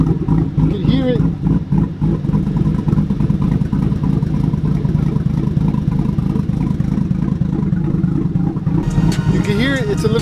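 A single cab pickup truck fitted with a KHP Performance tune, its engine and exhaust giving a continuous low, rumbling drone with slight surges in intensity, loud and sustained throughout.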